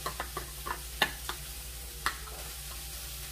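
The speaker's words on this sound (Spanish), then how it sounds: "Dependiendo del gusto, le estoy poniendo una cucharada y lo revuelvo." Spoon stirring bacon into a puree in a kitchen, a series of soft, close scrapes and light clinks at an uneven rhythm over a steady low hum.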